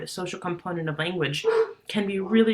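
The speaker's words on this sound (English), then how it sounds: "Sorry if you hear my dog barking in the background" A dog barks and whimpers in the background of a home while someone speaks continuously over it in the foreground.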